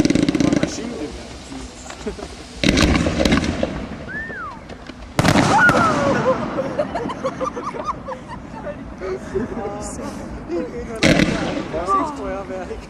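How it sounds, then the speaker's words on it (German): Fireworks at a midnight shopping event in Kirchheim unter Teck give several loud, sharp booming bursts separated by pauses. A dog whines nearby and people talk between the blasts. "Feuerwerk."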